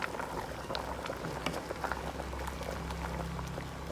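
Bamboo shoot curry with pumpkin and fermented fish simmers at a rolling boil in a pot, giving a steady, dense bubbling and popping that runs evenly throughout with no voices.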